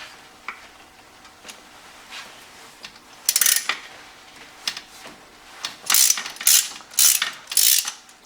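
A ratchet with a swivel extension loosens the distributor hold-down bolt on a 1986 Mustang GT. It gives a few scattered clicks, then bursts of quick, close, crisp ratcheting, with no talking.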